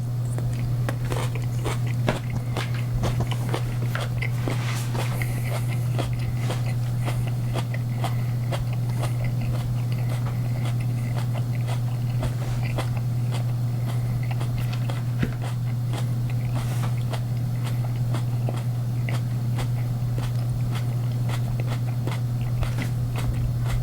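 Close, crunchy bites and chewing of Deathridge chili chocolate, with a steady low hum underneath throughout and no talking.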